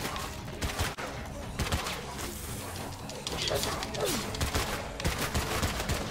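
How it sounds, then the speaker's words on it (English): Gunfire in a zombie video game, a dense fusillade of shots crackling throughout under animated talk from several players. "Nice shooting, Bob."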